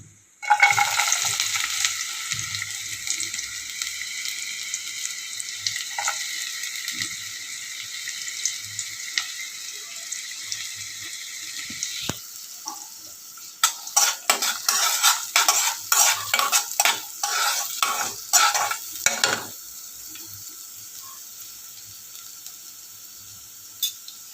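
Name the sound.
cumin and onion frying and stirred in pan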